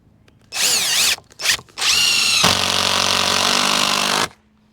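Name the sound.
power drill driving a screw into a fence board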